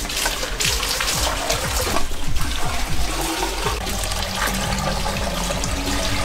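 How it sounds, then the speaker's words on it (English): Water poured from five-gallon buckets into a PVC pipe tabletop aquarium, a loud continuous gushing and splashing that swells in the middle and keeps flowing to the end. "Let's see how much water we can actually put in here."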